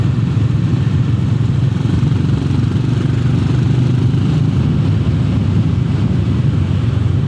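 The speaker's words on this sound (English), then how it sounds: "But the engine is very quiet. I think the engine runs a little bit smoother than the Enfield J engine." A Honda GB 350 S motorcycle engine while riding, running quiet and smooth with few vibrations: a steady, close low drone that holds even throughout, mixed with constant wind rush and no voices.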